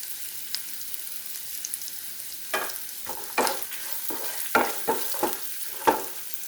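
Spices and turmeric fry in a pan for lime pickle, a soft steady sizzle broken by a series of sharp scraping stirs that grow more frequent in the second half, with no talking.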